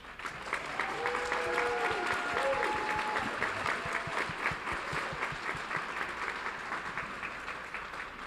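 An audience at a Fort Worth ISD school board meeting applauds steadily, a dense wash of clapping hands filling the room at moderate distance, with a faint voice speaking briefly underneath.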